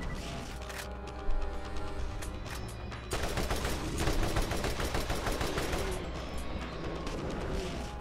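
Rapid automatic gunfire in the video game Borderlands during a fight at a Rakk hive, a dense continuous rattle of shots with short bursts and impacts layered over a steady background.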